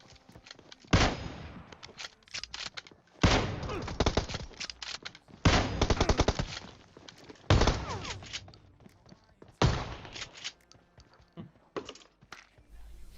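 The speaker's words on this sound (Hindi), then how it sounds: "मैं गोली चला रहा हूँ कार 98 की दोबारा कवर में" Kar98 bolt-action rifle fire in the PUBG Mobile shooter game: five loud, sharp single shots spaced about two seconds apart, each with a short crackling tail, separated by quiet gaps with faint game noises.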